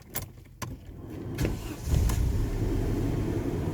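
A car engine starting from cold in a Ford Fiesta, Escort or Vauxhall Cavalier, a brief cranking burst followed by the engine catching and settling into a steady, close idle with no talk.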